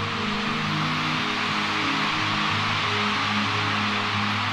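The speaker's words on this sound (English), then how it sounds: "Wow, the crowd going insane." Massive arena crowd at a concert screaming and roaring in a dense, continuous wash of noise, loud and unbroken, with faint music tones underneath and no talk.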